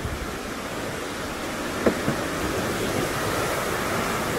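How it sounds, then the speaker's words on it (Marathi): A strong stream in rural Konkan, swollen by an hour of cloudburst rain, rushes with a steady, broad roar that stays even throughout, with no voices. "पूर्ण जोरदार प्रवाह आहे पाण्याचा."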